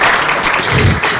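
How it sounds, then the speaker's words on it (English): A conference audience cheers and applauds in a steady, dense wash of clapping that fills the whole moment at close range. "Give us a cheer."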